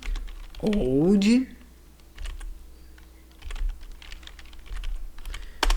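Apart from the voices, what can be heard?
computer keyboard typing an npm command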